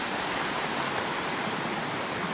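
Paradise Falls in the Bighorn Mountains pours with a constant, dense rushing hiss, loud and even from start to finish with no voices.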